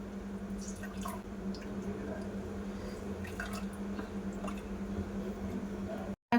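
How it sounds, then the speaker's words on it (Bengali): Water drips and trickles from squeezed chhana (fresh cottage cheese) in a steady, close patter with soft squishing, continuing for several seconds before an abrupt stop. "জলটা ঝরিয়ে নেব।"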